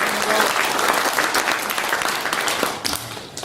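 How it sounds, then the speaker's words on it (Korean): An audience in a large National Assembly Library auditorium gives a sustained round of dense applause at an award ceremony, loud and even throughout with a slight thinning near the end. "이 두 분께 한번 격려와 감사의 박수 부탁드리겠습니다."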